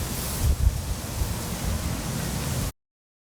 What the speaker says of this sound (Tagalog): Super gloomy and windy.